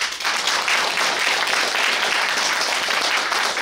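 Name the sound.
applause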